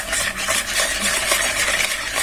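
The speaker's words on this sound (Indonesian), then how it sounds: "Aduk dengan balon mix saja, tidak usah dengan mixer." Egg yolks and sugar whisked by hand with a balloon whisk for an orange chiffon cake batter, a fast continuous rhythmic beating and scraping in a bowl, close and loud, with no voices.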